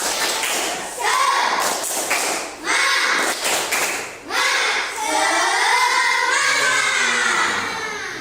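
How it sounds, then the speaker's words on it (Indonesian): Schoolchildren perform a rhythmic spirit clap led by their teacher, sharp group claps in patterned bursts mixed with chanted voices, close and loud, with talking in between. "mari kita bersama-sama tepuk semangat"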